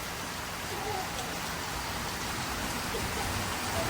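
Steady rain falls as a dense, even hiss, constant throughout, with faint indistinct voices of people sitting on a porch buried beneath it.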